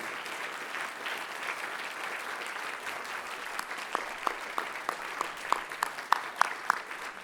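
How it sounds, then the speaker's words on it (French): Audience applause at a foundation gala: a steady wash of clapping from a large crowd, with sharper individual claps standing out more loudly toward the end. "Même absent, je pense qu'on peut l'applaudir"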